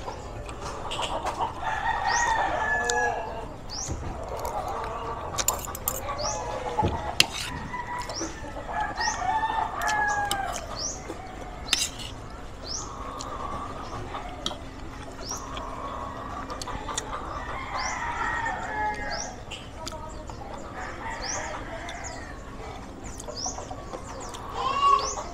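Chickens cluck and a rooster crows repeatedly around a rural home, a busy farmyard chorus of calls at middling distance over soft background noise.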